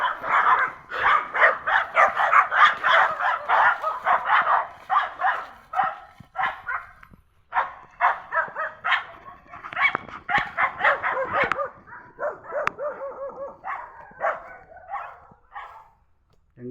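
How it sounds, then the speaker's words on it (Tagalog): An angry dog barks repeatedly in rapid bursts, loud and near, with a few whimpering yips between volleys on a farm with banana plants, alone without talk. "Galit na galit yung aso sa akin guys."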